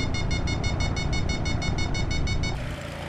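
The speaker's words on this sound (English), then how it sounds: "That beeping you're hearing is the variometer." A glider's variometer in Microsoft Flight Simulator X beeps in a fast, steady series of bright, even pulses over a continuous loud rumble, then the beeping stops near the end and the rumble carries on.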